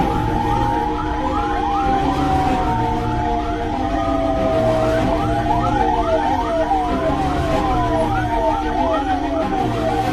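An ambulance siren wails continuously up close on a road in Kerala, India, its rapidly rising and falling tone repeating over the rumble of traffic.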